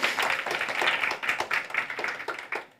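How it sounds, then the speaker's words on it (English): A small audience claps at a startup investment conference, with moderate, fairly close applause that holds an irregular rhythm for a few seconds before tapering off. "And round of applause"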